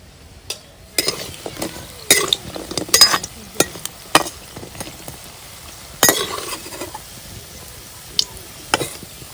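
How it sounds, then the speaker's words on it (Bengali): Puffed rice snacks frying in a pan, with a crackling sizzle under bursts of stirring and clinking utensils, close and fairly loud with no talking. "দেখুন তো আর কিছুক্ষণ ভেজে নেব"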